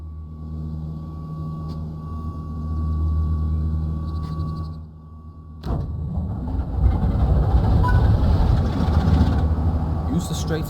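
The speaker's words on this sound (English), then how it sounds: "The locomotive is now ready to be started." A diesel locomotive in Train Sim World 6, on the West Coast Main Line between Crewe and Preston, starts up: a steady low cab hum gives way midway to a sudden loud, rumbling roar that keeps churning near and heavy.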